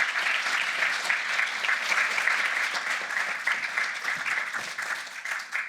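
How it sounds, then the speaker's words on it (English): A conference audience applauds a speaker at a start-up business event, sustained dense clapping throughout at a steady loud level, fading slightly at the end. "let's keep the applause going"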